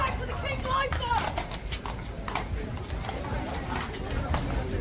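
A royal guard's horse clip-clopping in a busy crowd, its hooves striking in an irregular rhythm beneath loud chatter and crowd babble, with people talking throughout.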